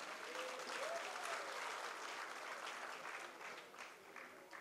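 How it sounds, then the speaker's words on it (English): Loud, steady applause from an audience of parents at a school annual showcase, sustained dense clapping throughout with a faint tonal whistle early on, fading slightly toward the end. "Loud applause, dear parents, from all sides."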